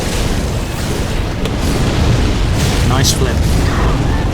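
Roaring dragon fire blasts in the video game Dark Souls 3 form a loud, continuous rushing boom that fills the whole clip, with a short burst partway through. A person talks over it.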